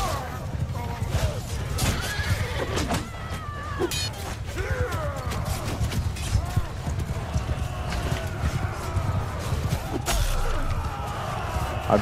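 Rhythmic hoof clip-clop of a galloping horse in Mount and Blade Bannerlord amid busy battle noise, with a voice talking over it.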